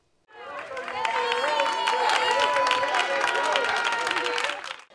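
A crowd of neighbours applauding and cheering steadily, with lively voices mixed in throughout, fairly close and continuous for several seconds.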